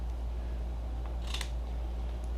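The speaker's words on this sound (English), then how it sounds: "So let me get a pair of scissors" Scissors snip through vinyl filament tape near a KTM 690 Adventure motorcycle, a quick cluster of crisp cuts in the middle of a steady low hum with no talking.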